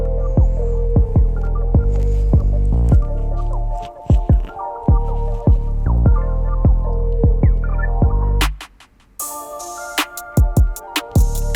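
Hair clippers with the blade fully closed cut a skin fade, a close, steady electric buzz with strong humming harmonics, broken by repeated short rhythmic strokes and a brief dip near the end.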